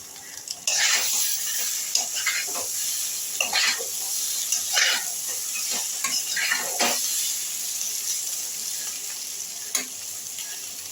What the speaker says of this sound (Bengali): এইভাবে আমি আলুটাকে কিছুক্ষণ মশলার সঙ্গে কষে নিচ্ছি